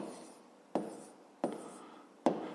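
Pen or pencil writing numbers by hand on paper in three short, crisp strokes spaced evenly apart, close and soft, with no talking.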